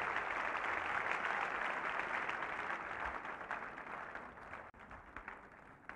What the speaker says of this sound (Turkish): Alkışlarımızı zorluyoruz.